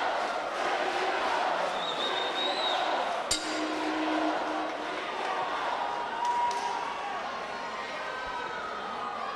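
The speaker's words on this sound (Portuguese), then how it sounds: "Torcida grita Cezinha." A fight crowd in the Benedito Calixto gymnasium in Itanhaém cheers on the fighter Cezinha with a steady, dense roar that fills the whole stretch, plus a brief sharp knock partway through.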